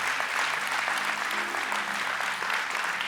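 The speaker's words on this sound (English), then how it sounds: "we're going to thank you and applaud you" A church congregation applauds together, steady dense clapping filling the space for a few seconds without pause, broad and moderately loud with no voices standing out.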